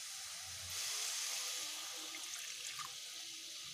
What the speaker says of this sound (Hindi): अब मैंने इसमें पानी ऐड कर दिया है 1 मिनट भुनने के बाद मसाले में